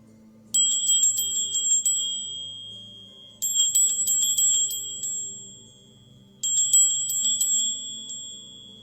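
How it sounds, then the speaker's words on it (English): A meditation bell is struck three times at even intervals, each bright, clear tone ringing out and slowly fading before the next strike, with no talking. "Let the vibration of this bell come through the ethers to wherever you may be"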